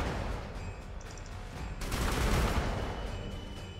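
Gunfire aimed at a tree in Warhammer 40k Sanctus Reach: a dense, rattling fusillade of shots that swells into a louder burst midway, then carries on steadily.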